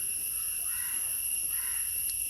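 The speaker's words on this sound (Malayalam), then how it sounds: "കാക്ക കരഞ്ഞുകൊണ്ടേ ഇരിക്കുന്നുണ്ട് കേട്ടോ" Two faint crow caws sound in the distance over a steady high-pitched insect drone.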